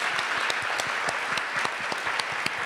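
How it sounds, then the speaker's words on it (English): Audience applause at a Sunday Assembly gathering in Los Angeles, a steady wash of many hands clapping at moderate volume throughout, with a few sharper individual claps standing out. "Can we give all of those people a round of applause?"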